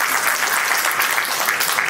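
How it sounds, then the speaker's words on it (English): Audience applause at a wealth expo, a dense, steady wash of many hands clapping that stays loud and even throughout, with no talk over it. "Give a round of applause."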